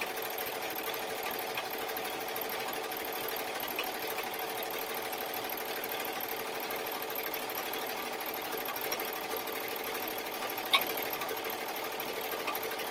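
An embroidery sewing machine stitches a decorative border with a fast, even mechanical whirr that holds steady throughout, with one brief sharp tick near the end.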